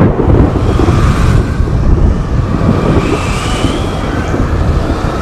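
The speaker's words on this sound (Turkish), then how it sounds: "Çok şiddetli bir fırtına geliyor" Strong storm wind blowing outside in a polar setting, a loud continuous roaring gust with low rumbling buffets that swell and ease, heard alone without voices.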